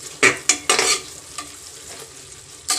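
Onions fry in oil in a pressure cooker for a potato, chickpea and tomato curry, with a few sharp scraping stirs over a low, constant sizzle.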